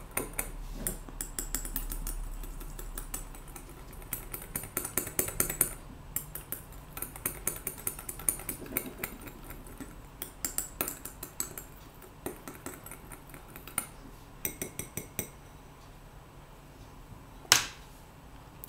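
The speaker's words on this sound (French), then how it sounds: "On mélange le tout." Light scraping and clicking of a utensil stirring a balm preparation in a small container, soft, irregular taps throughout with one sharper knock near the end.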